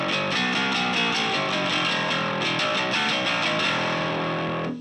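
Bass guitar run through the Dangle channel of a Softube Marshall Bass Tone plugin, giving a loud, dense, fuzzy distorted tone that sounds on without pause and stands alone with no talking.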